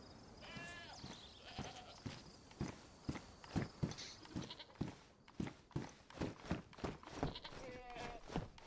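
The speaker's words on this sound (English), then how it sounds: "Oh hey, we got a couple goats." Hoofed livestock in the DayZ video game on the Livonia map, with bleat-like cries rising over steady clip-clop hoof steps; a voice murmurs underneath amid a busy, continuous outdoor bed.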